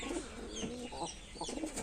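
Domestic pigeons coo softly and repeatedly from breeding cages, low rolling calls overlapping in a steady indoor backdrop with no talk.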